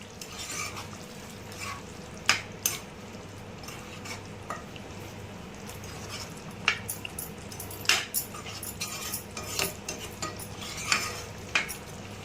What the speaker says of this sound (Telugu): మొత్తం మిక్స్ చేసుకుందాం